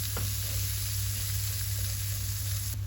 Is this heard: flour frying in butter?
yes